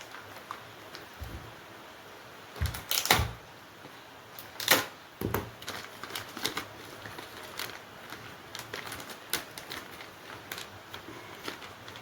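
Plastic clicks and snaps come from opening the panel of a Smart Eye e-surveillance system. The sharp handling knocks are close and irregular, with a few louder cracks among quieter taps and no speech.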